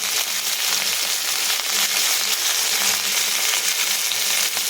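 Cumin, mustard seeds and curry leaves crackle and sizzle in hot oil, a steady, dense frying hiss that holds evenly from start to finish with no voices over it.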